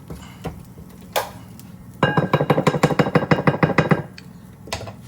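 A utensil clinks rapidly against a bowl while quinoa is mixed, a quick run of bright taps in the middle, with a few isolated knocks before and after.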